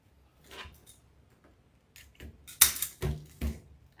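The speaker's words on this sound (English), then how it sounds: "And then pull your zip tie." A zip tie is pulled tight around deco mesh on a wreath frame, making a series of sharp ratcheting clicks and rasps that grow louder and more frequent toward the end.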